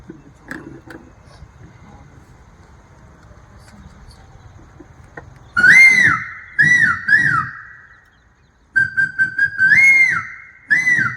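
A person whistles an imitation of a crested serpent eagle's call after a quiet start, several loud, ringing whistled phrases with rising and falling slurs, coming in bursts separated by short pauses.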